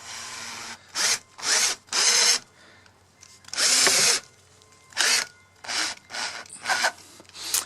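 A power drill whines in repeated bursts as it bores a 2 3/4-inch lockset hole into a wooden door, each run a second or so long, with brief quiet gaps between.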